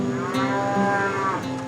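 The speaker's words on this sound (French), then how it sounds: "avec en prime un joli bruit de vache" A milk vending machine plays a loud, drawn-out recorded cow moo, a single continuous bellow with a slight rise and fall in pitch.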